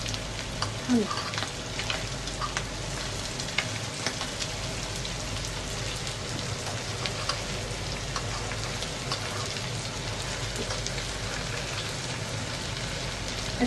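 Brains sauté in a pan with bay leaves and no added oil, giving a steady, dense frying sizzle with small crackles throughout. A voice speaks faintly underneath now and then.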